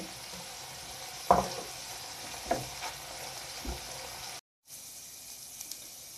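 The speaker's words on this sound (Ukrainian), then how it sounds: "І далі продовжую смажити." Soft, steady sizzle of onion, carrot and chicken liver frying in a pan, with a few scraping stirs and clinks over the constant hiss.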